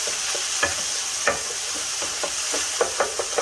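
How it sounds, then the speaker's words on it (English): Chicken sizzles steadily in a hot stir-fry pan over high heat, a constant frying hiss broken by scattered clicks and scrapes of stirring. "Constantly, you want to hear the sizzling"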